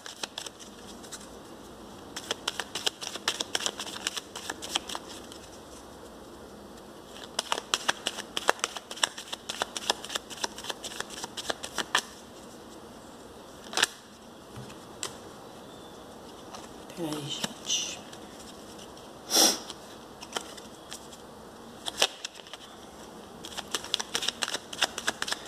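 Tarot cards shuffled in repeated bursts of crisp riffling and flicking, with short pauses and a few sharper snaps between rounds, close and moderately loud in a quiet room.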